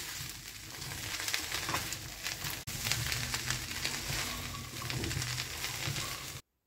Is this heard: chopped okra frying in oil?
yes